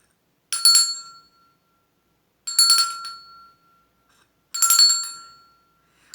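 A bell rings three times at an even pace, each bright metallic strike ringing out and fading into silence before the next.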